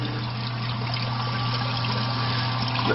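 Water runs into a basement through an uncapped pipe, a steady close trickle and hiss over a constant low hum, even and unbroken throughout.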